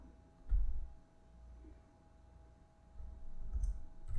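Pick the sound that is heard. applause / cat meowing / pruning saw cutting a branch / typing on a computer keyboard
typing on a computer keyboard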